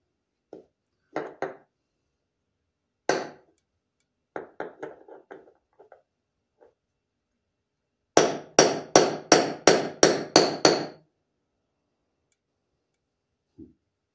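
Hammer striking a bearing to seat it, a few scattered metallic knocks followed by a quick run of about eight evenly spaced ringing blows, close and loud, then one last faint tap.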